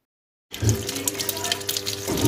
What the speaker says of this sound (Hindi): अब ये अपना वाटर लेवल कंप्लीट करेगी और फिर से चलेगी